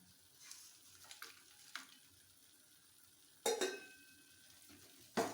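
Rava kesari being stirred in a pan with ghee, cashews and raisins: a quiet sizzle under soft scraping strokes, then two sharp clinks of a spoon against the metal pan, close by.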